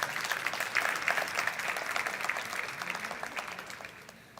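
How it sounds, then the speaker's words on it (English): Audience applause welcoming a deputy mayor to the floor at an international forum against racism and discrimination, a steady patter of clapping from a sizeable crowd that holds through and tapers slightly at the end. "here's your applause"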